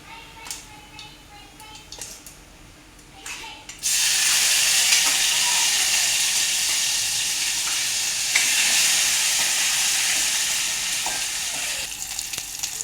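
Ginger-green chili paste and fenugreek powder hit a hot pan and burst into a loud, steady sizzle that holds for about nine seconds, after quieter kitchen clatter and light stirring sounds.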